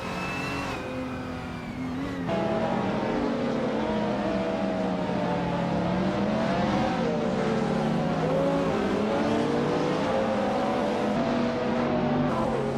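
Race cars in a racing video game at Atlanta Motorsports Park, engines revving loudly and continuously, pitch rising and falling through gear changes as cars accelerate close by.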